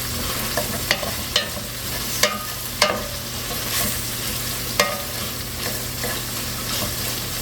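Green beans frying in a pan as their liquid cooks off, a constant close sizzle broken by several sharp clacks of a utensil stirring and scraping.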